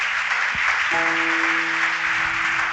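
A church congregation claps together in a dense, steady wave of applause during a Sunday service, with a faint sustained tone running underneath.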